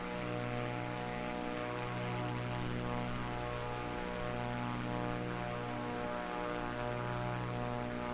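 Steady droning propeller engine of a Cessna Corvalis descending in Microsoft Flight Simulator 2024, a constant harmonic hum with slow wavering pitch, faint and even throughout with no talking.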